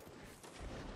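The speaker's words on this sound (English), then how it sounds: "I just shot a cannonball" A cannon firing a cannonball during a siege battle in Mount and Blade: Napoleonic Wars, a dull booming blast amid steady distant battle noise, with no voices.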